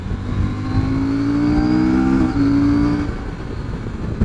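A 2022 CF Moto 800MT motorcycle engine pulls hard under acceleration, its loud droning note rising steadily in pitch, dipping briefly at a gear change, then climbing again amid wind rush.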